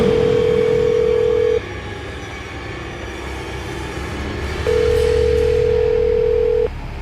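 An unanswered telephone call rings out as a steady mid-pitched tone, sounding in two long bursts separated by a pause over a low background rumble.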